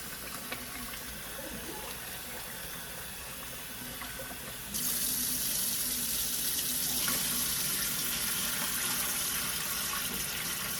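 Water runs steadily from a tap and splashes as meat is washed beneath it, growing louder and brighter partway through.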